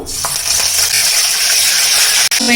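Curry leaves dropped into hot oil for a pomfret fish curry, giving a loud, dense, continuous crackling sizzle heard up close, with a brief break near the end.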